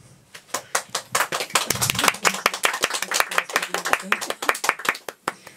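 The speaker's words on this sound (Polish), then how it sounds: "Dziękuję bardzo za brawa" Audience applause after a Polish poetry reading of erotic verse, a dense run of brisk hand claps that builds, peaks and then thins out into a few scattered claps at the end.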